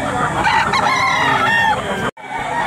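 A seven-month-old rooster at a Batangas gamefowl farm crows loudly and close by in one long, continuous call that breaks off abruptly near the end before more noise follows.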